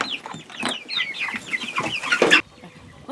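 Meat chickens clucking in a busy, close flock, overlapping short clucks and chirps packed tightly together for a few seconds before cutting off.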